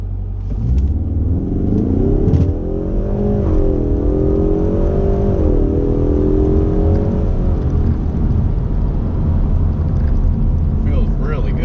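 A 2019 Ford Mustang with the 2.3 EcoBoost engine revs and pulls hard from a launch, the engine note climbing through rising pitch sweeps and shifting before easing into a steady cruise, heard loud from inside the car.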